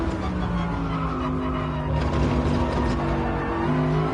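Tyres squeal under strain on a race car in the Gran Turismo Sport video game, a continuous skidding whine layered over a steady engine drone for a few seconds, with no speech.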